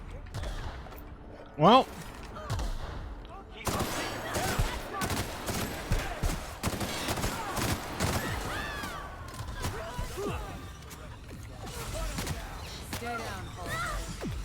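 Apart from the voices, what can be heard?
gunfire in the video game The Outer Worlds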